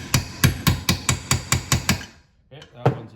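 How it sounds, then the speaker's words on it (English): Hammer blows drive a jig onto the PTO-side crankshaft seal of a Husqvarna 372 chainsaw, eight sharp metallic strikes in a steady rhythm, then a brief pause and a couple of lighter taps, close and alone. "Take this jig and just hammer it flat till it touches the case."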